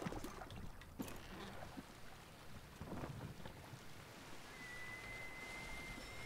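A ship sails across open water in the Assassin's Creed Odyssey game, with soft rushing wind and water wash, faint creaks and splashes, and a thin high tone coming in near the end. No speech.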